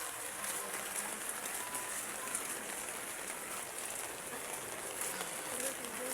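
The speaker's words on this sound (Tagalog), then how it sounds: "Ulan" Steady rain falls throughout as an even, continuous hiss with no breaks, fairly close and moderately loud.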